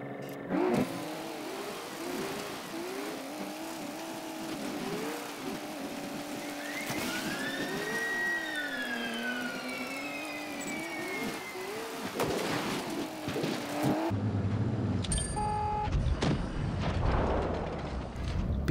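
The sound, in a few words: tank engine and ramming in a tank video game, Pz V IV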